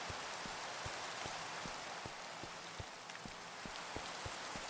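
Rain falls in the video game Minecraft, a continuous soft hiss with evenly spaced low ticks and patters repeating through it, quiet and unbroken, without speech.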